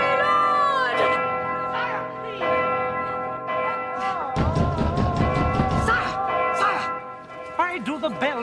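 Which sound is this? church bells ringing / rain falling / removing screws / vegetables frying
church bells ringing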